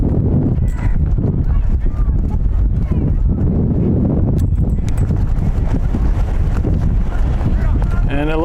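Strong wind buffets the microphone at an outdoor youth soccer match between City SC Utah and Utah Celtic, a loud, constant low roar that never lets up for the whole stretch, with faint voices and field noise buried underneath.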